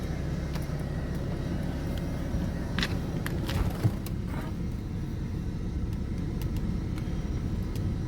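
A BMW 430d diesel engine in an F36 4 Series Gran Coupe runs at a steady low idle rumble, a constant droning hum with a few faint clicks and knocks.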